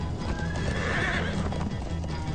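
Horses in the Minecraft Story Mode video game gallop with rapid rhythmic clip-clop hoofbeats, and a loud whinny rises over them midway, close and continuous.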